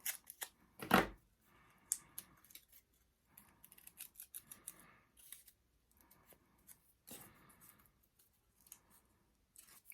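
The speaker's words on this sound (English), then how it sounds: "As you're doing this with the back edge of your scissors, you're kind of coming out to the side just a little, creating that curve on it." The back edge of a pair of scissors is drawn along crepe paper to curl it for a pine cone decoration, making a sharp scrape followed by a series of softer intermittent rustling strokes, close and quiet with no talking.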